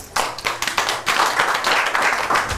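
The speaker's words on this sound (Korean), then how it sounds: "큰 박수로 모시겠습니다" At a summer beach festival, an audience welcomes meditation leader Kim Il-seon to the stage. A few distinct, separate claps build into close, full applause that keeps a fairly even level to the end.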